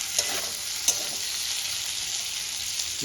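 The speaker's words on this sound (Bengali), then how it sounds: "টমেটোটা দিয়েও আমি ভালো করে কষাতে থাকবো" Tomato and a katla fish head frying and being stirred in a pan, a steady hiss of sizzling with a couple of sharp utensil scrapes, close and moderately loud, no talking.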